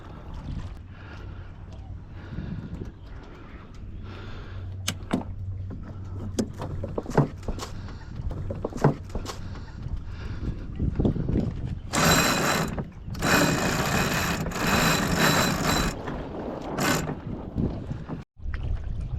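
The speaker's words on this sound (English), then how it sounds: "I'm going to deploy the sculling oar to give me a little help here" A sculling oar works the water to push a small sailboat along, giving repeated creaks and swishes with splashy bursts. Wind and water wash fill the background, and the oar strokes are close and moderately loud.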